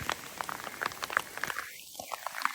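Rain patters steadily in a wet Carpathian mountain forest during mushroom picking, a soft dense hiss of drops striking leaves and ground with scattered louder splats, heard fairly close and fairly quiet.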